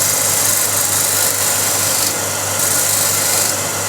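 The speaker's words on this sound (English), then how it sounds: "So I have a fresh burr on this standard scraper, just to get this nice and clean" A freshly burred standard scraper works the wood up to a turned bowl's rim on a running lathe, a steady rasping scrape over a low motor hum, continuous and close, with slight swells in intensity.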